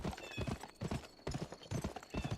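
Steady clip-clop of horse hooves in a cowboy video game, a quick repeating gallop rhythm that stays loud and close throughout.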